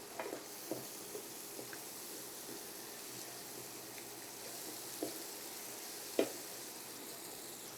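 Long beans (borboti) drop into spice paste frying in a pan, leaving a low, steady sizzle with a few faint clicks and one sharper knock of a utensil, fairly quiet and without speech.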